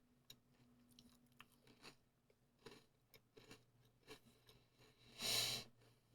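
Crunchy Portuguese snack chewed close up in a quiet room, with soft intermittent bites and crunches spread across several seconds and one louder, denser burst of crunching near the end.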